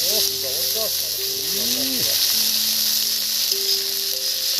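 Poppy seeds, ginger and green chillies sizzle steadily in hot oil for an egg posto curry, a dense bright hiss throughout with a voice talking over it.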